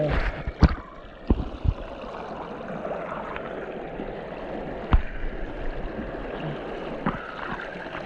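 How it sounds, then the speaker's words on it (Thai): Water from the Sangkhlaburi waterfall in Thailand rushes in a steady, broad wash, with a few sharp knocks and splashes near the start and scattered through the rest. "น้ำตก"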